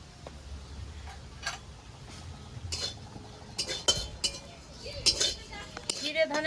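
Coriander and cumin seeds dry-roast in an empty pan with no oil, heard as scattered metallic clinks and scrapes of a spatula against the pan, growing busier toward the end over a quiet background.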